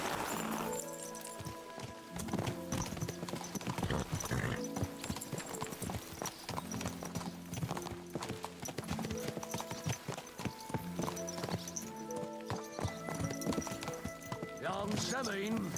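Horse hooves clip-clop in a steady riding rhythm in a video game, close and continuous, with an occasional whinny and voices talking over the hoofbeats.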